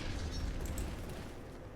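A detonation in the video game Grim Dawn comes through as a loud, deep rumbling boom that swells and then stays heavy through the whole moment, with some crackle on top.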